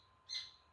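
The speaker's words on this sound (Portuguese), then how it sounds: "Ô, passarinho." A single short, bright bird chirp rises and fades in under a second, faint against a quiet indoor background while vegetables are being prepared.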